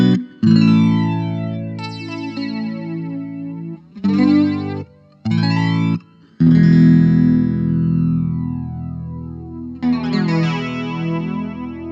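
Guitar through a Vox DA5 practice amp on its flanger and reverb setting: chords and short bursts with sweeping, swirling tone and ringing decay, played alone with a few quick gaps.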